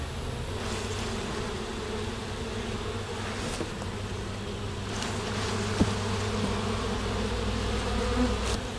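Honey bees swarm around open hive frames, a dense continuous buzzing close by with a few louder passes as individual bees fly near.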